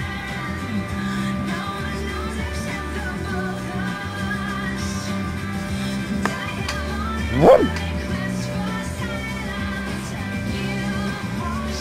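A dog right after a bath gives one short bark or yip partway through, heard over a steady background of music and hum.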